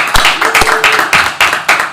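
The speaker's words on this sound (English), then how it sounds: "please join me in another round of applause." A small audience claps in a brief round of applause at a climate technology panel, separate sharp handclaps in an uneven rhythm, close and fairly loud, with a faint voice in the background.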